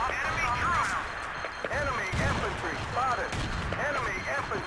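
Gunfire in Battlefield 2 as repeated sharp shots rattle amid a busy battle din, with voices talking over the shooting.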